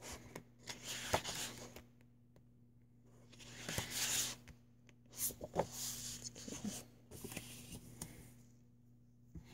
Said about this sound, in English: I'm going to go and take these and pre-cut these apart, and then add them to my card piles